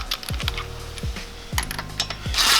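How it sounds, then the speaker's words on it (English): Impact gun on low setting tightening lug nuts with a 19mm socket, several short rattling bursts separated by pauses, close and moderately loud. "Put your gun on low just to tighten them first"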